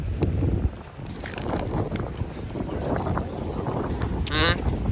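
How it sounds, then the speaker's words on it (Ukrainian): Cold wind buffets the microphone in rough, uneven gusts, loud and close, on a sunny day during a 300 km cycling brevet, with a voice speaking intermittently beneath the roar. "Вітер холодний, хоч типу на сонці тепло"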